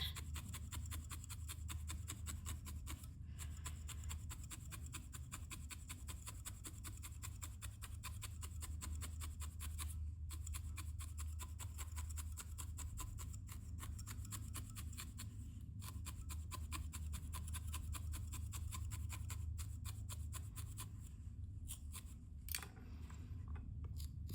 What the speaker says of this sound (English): I usually pull out this double needle when I get to the point that it's already mostly felted